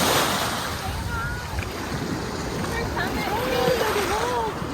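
Ocean waves wash continuously onto a beach with steady surf and some wind buffeting the microphone, while faint voices drift in and out over the water noise.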